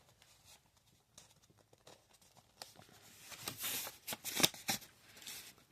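Pages of an Evil Dead Rise Necronomicon replica book made of rubber are turned and flipped, giving soft papery rustles and flutters that grow busier and louder toward the end, with no one speaking.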